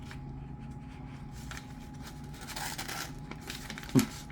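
A Chris Reeve Impinda folding knife in S35VN steel, freshly stropped, slices through paper with a soft, continuous rustling scrape and a brief sharper crackle near the end, close and fairly quiet.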